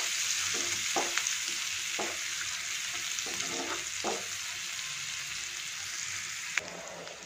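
Finely chopped onion frying in oil in a pan for a restaurant-style gravy, an even sizzle through the whole stretch with a handful of spoon scrapes and taps, fairly close and without speech.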